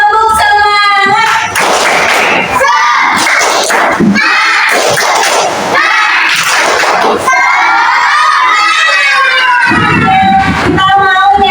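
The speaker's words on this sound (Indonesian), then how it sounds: "Ayo kita tepuk semangat dulu. Tepuk semangat." Rhythmic spirit clapping from a school class, bursts of hands beating in patterns alongside children's loud shouted chanting, with an adult voice leading between rounds.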